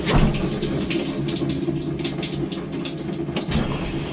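Steady rushing of hot water flowing in under pressure through a top-load washer's inlet valve, a constant broadband hiss that holds level throughout without pause.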